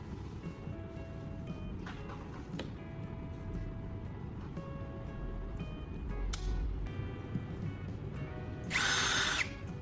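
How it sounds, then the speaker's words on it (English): Cordless power drill driving a screw into a loose hinge, with a zip tie packed into the hole, heard in short whirring bursts with pauses and a louder high-pitched spin near the end. "use the drill to drive the screw in"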